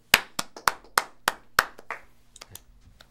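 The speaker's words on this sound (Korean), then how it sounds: "자 다들 박수." Several people clap in an office in a short burst of sharp, distinct claps, about seven loud close hits that thin out into a few scattered, quieter ones.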